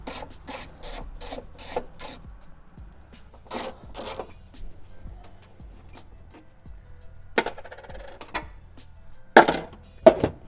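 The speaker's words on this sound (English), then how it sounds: "Then you're gonna remove these two 10mm bolts right here." A ratchet works on two 10mm bolts in the engine bay of a BMW F10 M5: quick bursts of clicking and rubbing, close and fairly quiet, separated by short pauses with occasional louder metallic clacks near the end.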